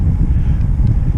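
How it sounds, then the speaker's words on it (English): Strong headwind roars across the microphone on a bike ride between Banff and Lake Louise, a loud, steady low rumble with no break and no talk. "Wind coming up, headwind."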